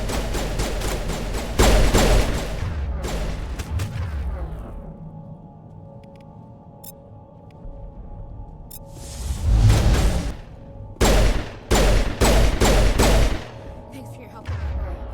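Gunfire from the video game Mass Effect, bursts of shots striking walls: dense rapid volleys at the start, a quieter stretch with a whoosh, then several loud clustered bursts near the end over a low rumbling backdrop.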